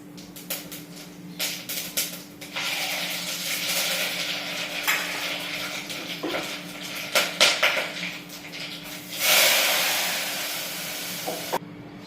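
Dal being tempered with spices in hot oil in a home kitchen, a steady sizzle running throughout with scattered clinks of a pan and utensils, swelling louder near the end as the tempering hits, with no talk.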